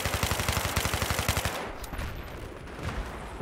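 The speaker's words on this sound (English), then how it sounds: "Put down some suppressive fire." Suppressive gunfire in Battlefield 3 on Sharqui Peninsula: a fast, steady burst of automatic shots lasting about a second and a half, then a noisy rumbling tail with distant scattered shots.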